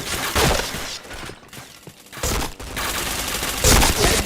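Video game gunfire rattles out in several rapid bursts and volleys, separated by brief lulls, fairly loud and close throughout.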